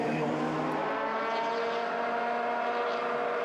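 At the 24h Zolder endurance race, the Wolf prototype race car holds a steady engine note, a continuous tonal drone at moderate distance, with a voice talking over it.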